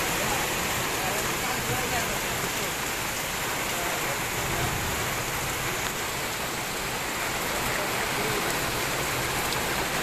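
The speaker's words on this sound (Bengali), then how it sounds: "সেই বৃষ্টি এখন হচ্ছে মুষলধারে" Heavy torrential rain pours down in a dense, unbroken roar of drops drumming on surfaces, steady and loud for the whole stretch, with a voice faintly underneath.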